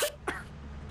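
A player character coughing in Lethal Company after being hit with spray paint, two quick rough coughs close up over a quiet low background hum.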